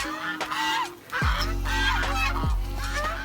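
Loud, repeated goose honks overlapping in a busy outdoor chorus at a petting zoo on Monkey Island in Nha Trang, several birds calling at close range with harsh nasal blasts.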